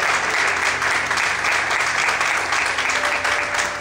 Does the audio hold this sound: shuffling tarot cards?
no